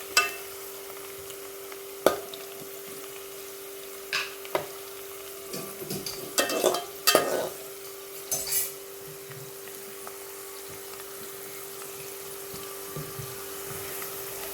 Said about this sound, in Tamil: ஸோ கை இடையில இலக்கி கொடுக்கணும், இல்லாட்டினா கரிஞ்சு போயிடும்.